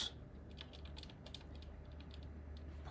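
Typing on a computer keyboard, done at an awkward reach: a quiet, fast, irregular patter of key clicks that runs steadily through the clip, with no one speaking.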